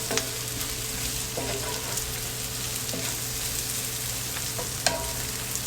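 Softened onions and thyme sizzle steadily in a pan for an onion gravy, with occasional scraping knocks of a spoon stirring through, close and even throughout without talk.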